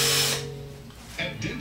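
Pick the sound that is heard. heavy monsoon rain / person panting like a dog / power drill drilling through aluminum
power drill drilling through aluminum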